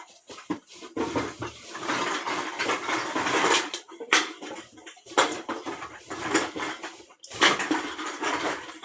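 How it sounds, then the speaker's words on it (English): Empty soda cans rattle and clatter as they are pulled out of neighborhood trash cans on a Thursday night for recycling, a loud, continuous metallic jangle with short bursts and brief gaps. "that is the song of soda cans being taken out of trash cans and recycles"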